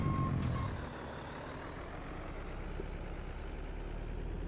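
Truck with a trailer reversing in the video game Farming Simulator 22, a brief reversing beep and air-brake hiss at the start followed by steady engine rumble, no speech.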